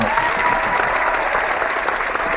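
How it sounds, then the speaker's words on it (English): A canned applause effect on a live online show, a bright, dense and steady clapping track played alone and evenly loud throughout. "Somebody hit the applause, please."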